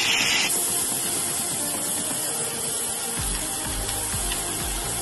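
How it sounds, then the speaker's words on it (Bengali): Small kachki fish coated in salt and turmeric frying with onion in a pan, a steady, fairly loud sizzling hiss with some low scraping or shifting sounds in the last two seconds and no speech. "এখন মাছগুলো ভালো করে ভেজে নেব।"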